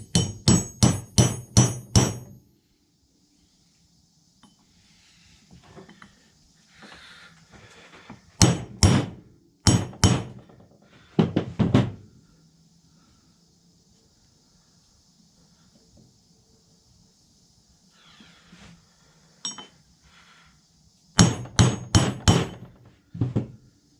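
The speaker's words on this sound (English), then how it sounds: "So I'm just getting a long bolt and a nice hammer. I'm going to get this put in there." A hammer drives a long bolt into a Polaris XP 1000 front differential in loud, sharp metallic blows: a rapid run of about six at the start, scattered pairs and single hits mid-way, and a final quick burst, with quiet shop noise between.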